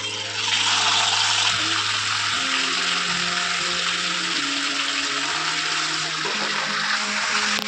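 Steady, loud sizzling of food frying in hot oil, a broad hiss that continues throughout with a low hum underneath.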